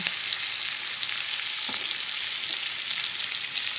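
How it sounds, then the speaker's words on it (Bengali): Capsicum, onion and garlic frying in a wok give a steady, dense, close sizzle that holds even throughout, with no talk. "কড়াইয়ের মধ্যে আমি ক্যাপসিকাম, পেঁয়াজ, রসুন,"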